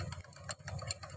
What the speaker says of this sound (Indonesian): Ketika posisi stasioner akan mengakibatkan suara kelotok seperti ini.